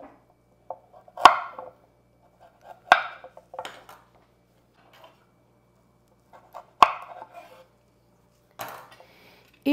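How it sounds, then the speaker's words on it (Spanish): Sharp knife strikes on a cutting board as a carrot is chopped, a few isolated chops spaced irregularly with quiet gaps and light handling clatter between them. "Ahora estaremos picando la zanahoria."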